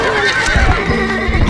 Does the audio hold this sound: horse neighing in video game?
yes